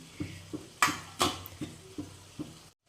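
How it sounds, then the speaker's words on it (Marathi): Potatoes go into a pan of fried masala paste, with a string of clattering knocks and scrapes of a spoon against the pan, two louder clanks in the middle, and no voice. "आता ह्याच्यामध्ये बटाटे टाकून घ्यायचेत आपल्याला"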